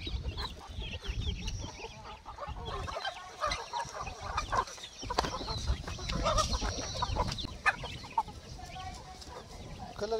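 Roosters and hens cluck and squawk steadily together in a busy poultry flock, with faint voices talking in the background.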